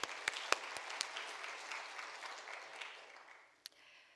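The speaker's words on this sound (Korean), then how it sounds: "감사함으로 영광의 박수 올리도록 하겠습니다." A church congregation at a Wednesday evening worship service applauds after a choir's hymn: dense, steady clapping fills the room, then thins and fades, with a last few scattered claps near the end.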